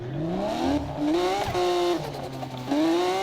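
Engine of a Ferrari racing in Need for Speed, revving through repeated rising gear sweeps, dropping and climbing again, loud and close with no talk.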